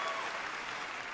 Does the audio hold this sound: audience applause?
yes